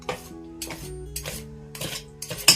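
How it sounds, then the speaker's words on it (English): Small bowl clinking repeatedly as dough is mixed and cut in by hand for Spanish cakes from a 1796 recipe, several close, bright clinks and scrapes at an uneven rhythm. "Sorry about all the noise with my little bowl here."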